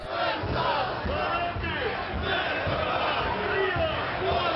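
Crowd at a nationalist torchlight procession cheering and chanting for a national hero, a dense continuous roar of many voices with rhythmic shouted surges, loud and close throughout.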